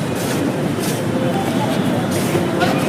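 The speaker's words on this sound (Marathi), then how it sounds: "हे आलोय आता मेट्रो स्टेशनवर आणि आपली मेट्रो पण आली आहे" A Nagpur metro train sits at the station platform, its steady low rumble and hum filling the space continuously, with people talking over it.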